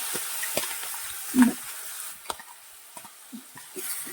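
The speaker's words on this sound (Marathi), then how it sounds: "मस्त अशी हिरव्या मिरचीची पेस्ट घालून घ्यायची आहे अगदी दोन मिनिटं मस्त असं तेल परतून घ्यायचं आहे" Green chili paste stirred and sautéing in hot oil for a Marathi matar palak sukhi dish, with a soft steady sizzle, scraping stirs and a few clicks of a spoon against the pan.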